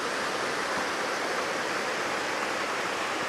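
Flowing stream rushing steadily, a broad continuous wash of water with no other sounds.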